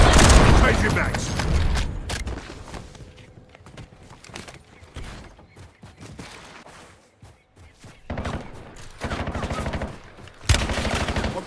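Gunfire in the video game Call of Duty: Warzone, bursts of shots at the start and again near the end with quieter stretches between, heard alongside game audio.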